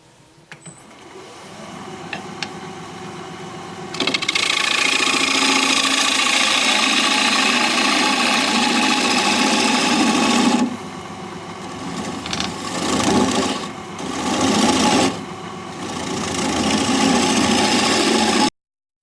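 Green wood turning on a lathe, a steady motor hum with the gouge scraping and cutting broadband across the piece, loud and continuous with brief dips where the cut pauses.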